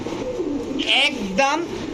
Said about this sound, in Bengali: নীলা সাহারানপুরি নর, টুপিদার সাহারানপুরি মাদি, একদম ক্রিম চোখের কবুতর